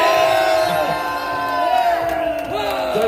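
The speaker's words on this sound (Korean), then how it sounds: "모두 큰 박수 부탁드립니다." A rally crowd cheers and shouts at a political gathering, a steady wash of many voices with whoops rising over it, loud and close throughout, with no clear clapping standing out.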